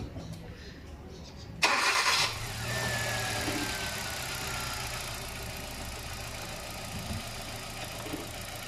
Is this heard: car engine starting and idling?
yes